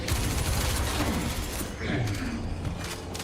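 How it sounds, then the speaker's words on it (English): Continuous rapid gunfire from a battle against an alien in the video game Star Citizen, dense and loud throughout with bursts and mechanical clatter, and a voice faintly under the shooting. "all the people shooting at this alien have been ineffective"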